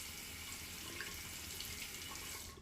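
A faucet runs in a steady, faint stream over shaving lather, a continuous hiss of water that cuts off at the very end.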